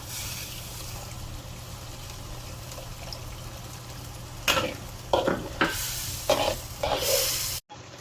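Tamarind water goes into a fried spice paste for sambal goreng, breaking a low steady sizzle into a burst of splashing and crackling, followed by several loud stirring scrapes.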